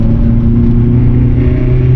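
A BMW M3 E30 engine pulls hard on a test drive, a loud steady in-car drone and rumble rising slightly in pitch, with no talk over it.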